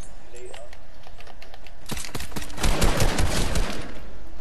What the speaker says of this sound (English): I almost got him with my pistol.